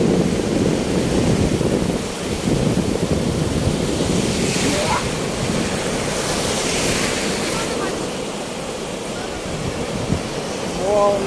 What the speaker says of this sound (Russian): Волны какие.